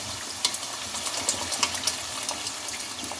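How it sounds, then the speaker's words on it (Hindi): About a glass of water poured into a pan of frying peas and minced meat, a close gushing splash with bright spattering bursts over the hot sizzle. "जब मटर इसमें भुन जाए तो इसमें 1 गिलास के करीब पानी डालकर"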